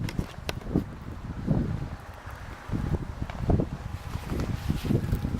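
Strong wind blowing outdoors in deep drifting snow, gusty rumbling buffets against the microphone that rise and fall throughout, with faint scattered knocks.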